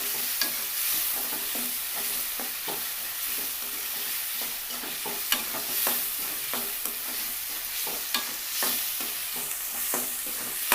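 Ginger garlic paste frying in oil for an aloo egg masala curry, a loud continuous sizzle broken by regular scraping stirs and occasional sharp spatters, with no talk over it.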